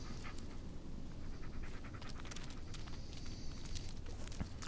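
A dog panting in the video game Blair Witch, a steady soft breathy rhythm under a dense, noisy background of movement and ambience, fairly close but low in level.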